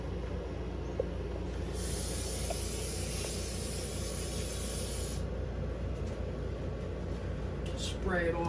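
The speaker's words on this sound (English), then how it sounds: "Spray it off real quick with a can of brake cleaner." A steady aerosol spray of brake cleaner hisses for several seconds over a low rumbling background, then cuts off abruptly.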